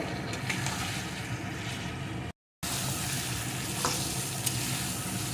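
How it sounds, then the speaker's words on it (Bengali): Fried potatoes stir-fried with crab in a pan for a crab curry: a steady close sizzle with scraping stirs, broken once by a brief moment of silence before the frying resumes. "এখন আলুগুলো কাঁকড়ার সাথে আর একটু কষিয়ে নেব।"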